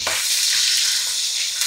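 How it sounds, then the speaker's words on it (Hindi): Boiled mutton fries in hot oil in a kadai, giving a loud, continuous close sizzle with a faint stir partway through and no voices. "अभी बॉयल किया मटन को सेम कढ़ाई में थोड़ा सा और ऑयल डाल के मैं फ्राई कर लूँगी"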